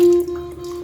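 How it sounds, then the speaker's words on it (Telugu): A waterproof IP68 Oppo phone's speaker plays a steady, loud low buzzing tone to push water drops out, with a faint sputtery texture over the brief, unbroken hum. "ఆ వాటర్ సౌండ్కి వాటర్ డ్రాప్స్ ఏమైనా ఉన్నా కూడా నాకు తెలిసి అది బయటకు వచ్చేస్తుందండి."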